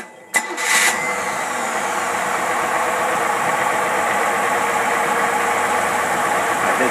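A boat engine with a Rochester 4-jet carburetor cranks and catches with a brief burst, then settles into a steady, even idle rumble that continues to the end.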